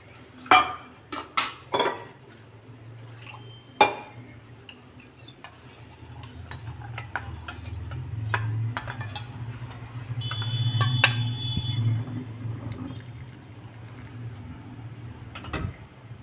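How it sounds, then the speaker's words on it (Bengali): Water from a rinsed spice bowl goes into a pan for mustard hilsa curry, with metal clinks and scrapes of a spoon against the bowl and a low bubbling simmer swelling in the middle, no speech. "মশলার বাটি ধুয়ে জল একটু দিলাম।"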